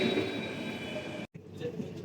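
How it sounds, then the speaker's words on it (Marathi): A constant rumbling train drone, like a metro car in motion, close and steady, briefly cut off for a moment near the end. "मेट्रो"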